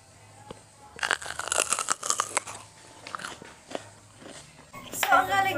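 Close, crisp bites and crunchy chewing of raw bell pepper come in a run of sharp crunches followed by softer chewing. A voice speaks briefly near the end.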